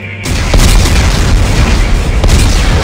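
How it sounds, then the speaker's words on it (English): Explosives detonating in the video game Dead Space 3, a very loud, sustained roaring blast that fills the whole few seconds with a heavy low rumble. "Computer, arm explosives, and detonate."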